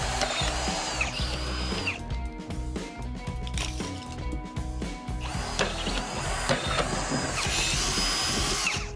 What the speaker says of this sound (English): Now it's time to drill the holes.